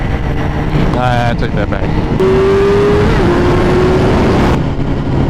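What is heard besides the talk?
BMW S1000RR motorcycle engine revving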